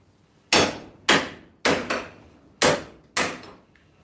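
Six sharp hammer blows on welded metal to test the weld, loud and close, evenly spaced with brief ringing decays and near silence between strikes.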